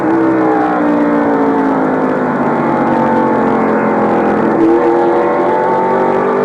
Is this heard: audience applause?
no